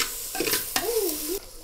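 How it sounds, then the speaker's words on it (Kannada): Ginger garlic paste frying with onions in a clay pot, heard as steady close sizzling with a spoon stirring and scraping through the pan, including one longer sweep near the end. "2 ಚಮಚ ಶುಂಠಿ ಬೆಳ್ಳುಳ್ಳಿ ಪೇಸ್ಟನ್ನು ಈರುಳ್ಳಿ ಒಳ್ಳೆ ಫ್ರೈ ಆದ ನಂತರ ಆ್ಯಡ್ ಮಾಡಬೇಕು"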